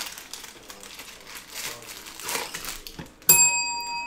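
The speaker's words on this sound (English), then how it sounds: "Giving myself the hit on the bell." A bell struck once during a football trading card case break, ringing out bright and sustained after a few seconds of crinkling packaging and handling noise.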